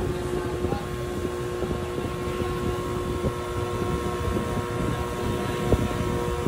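A vacuum pump evacuating the air conditioning system of a Mitsubishi Mirage, heard as a steady close droning hum with a constant tone and no talk.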